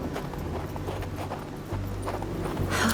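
Horses' hooves clip-clopping in the western video game Hard West II, a steady run of close hoof clops over a low droning game soundtrack, with no speech.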